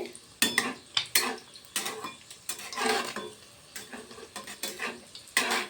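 An egg paratha fries on low heat in a pan, with repeated scraping and clinking of a spatula against the pan over a faint sizzle, in irregular bursts.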